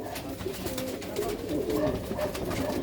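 A good-breed female pigeon coos close by, a steady low warbling run of coos with a light rustle beneath, no voices.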